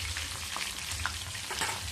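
Chicken pieces frying in hot oil give off a continuous close crackling sizzle with small pops throughout and no voices.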